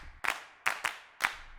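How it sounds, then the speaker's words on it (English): Four sharp hand claps from a Drum Circle virtual instrument's clap patch, a group of eight people clapping together, spaced unevenly with a short double hit in the middle, crisp and fairly close with no talking. "Got 8 people clapping there."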